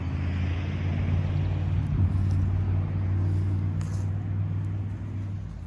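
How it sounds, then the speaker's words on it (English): A car passing near a 1890s house site, a steady low engine and tyre rumble that swells slightly and holds for several seconds, with light wind buffeting the microphone. "Let's wait for that car to go past."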